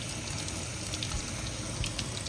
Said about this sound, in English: Next, we're going to rinse the rice thoroughly.